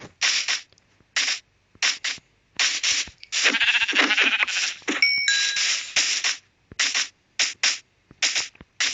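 A sheep in Minecraft Pocket Edition bleats in repeated short, bright calls, loud and close, with a denser run of game sounds and a ding in the middle.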